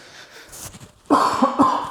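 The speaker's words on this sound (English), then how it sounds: "so you might have to deal with me coughing." Two or three harsh coughs from a person with a cold, close to the microphone, preceded by a quieter throat noise and breath.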